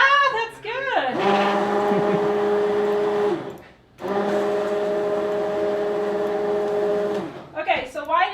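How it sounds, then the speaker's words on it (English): Countertop blender whirring through homemade chocolate pudding to smooth out cocoa lumps, two steady loud runs of several seconds each with a brief pause between, and people talking faintly before and after. "why did I just blend it with the blender?"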